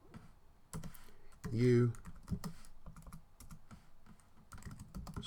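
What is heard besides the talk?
typing code on a computer keyboard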